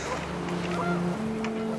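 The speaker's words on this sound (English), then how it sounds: "panicked geese appeared and quickly went" Panicked geese honk in What Remains of Edith Finch as the wind picks up: steady, overlapping honking tones sustained across a breezy, watery backdrop, moderately loud and close.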